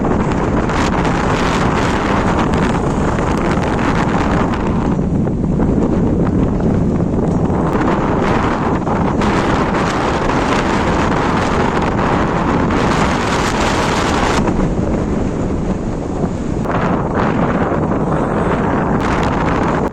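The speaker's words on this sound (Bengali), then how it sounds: "বাতাসের গতিবেগ এতটাই ছিল যে পাখিগুলো ঠিকমতো উড়ে যেতে পারছিল না" Strong storm wind roars steadily and loudly across the microphone at a riverbank, buffeting without pause for the whole stretch.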